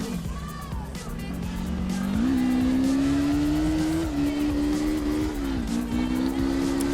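Racing car engine in the CarX Drift Racing video game, a steady loud drone that climbs in pitch as the car accelerates, with tyre squeal layered over continuous engine noise.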